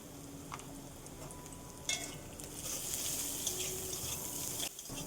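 Turmeric and Kashmiri chilli powder are stirred through a pan of frying ingredients, with steady close sizzling and repeated scraping strokes of a spoon against the pan and a few sharper clinks.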